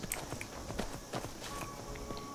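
Horse hooves clip-clopping in Skyrim, a steady rhythmic series of hoof strikes on the ground, moderately close within a busy game soundscape.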